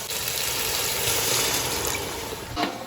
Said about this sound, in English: Now we'll just add in a little water and let this cook for some time